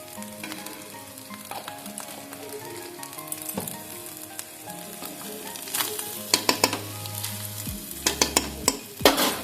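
Fried rice stirred in a hot pan with ghee and sugar, a steady close sizzle with scraping strokes of the spatula that grow louder and more frequent toward the end.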